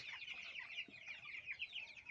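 Young broiler chickens, about two weeks old, cluck and cheep continuously in a small farm shed, a busy high chatter of many birds close by with no voices.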